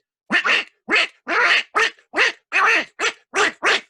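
A human voice imitates a duck, giving nine or ten short, loud, nasal quacks in an uneven rhythm, each separated by silence, with no other sound.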